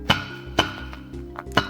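Percussive clacks on a mammoth jaw bone, a few louder woody hits and softer taps between them, with a short ringing tone after each strike.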